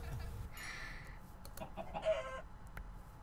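Chickens in the Minecraft video game cluck in short bursts, several quick game-sound clucks overlapping against a low background hum, fairly near and clear.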